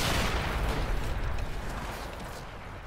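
A tank's ammo rack detonates in a video game and blows the turret off, a loud, dense explosive roar that dominates at first and then slowly fades into rumbling debris.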